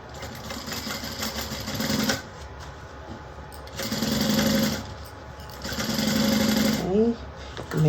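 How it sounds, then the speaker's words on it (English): A sewing machine stitches a fabric lining in three bursts of steady rapid whirring, each about two seconds long and separated by short pauses, with quiet talk in the gaps. "And I'm going to sew this side."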